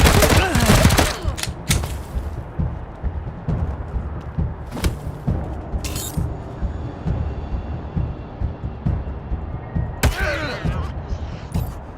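Gunfire in Wasteland 3 combat: loud bursts of shots at the start, then scattered sharp cracks and thuds over a steady rumbling background, with a brief voice in the mix.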